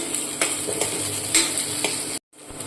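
Soup ingredients for corn soup sautéed and stirred in a pan, a steady close sizzle with scraping spoon strokes, briefly cutting out near the end before resuming.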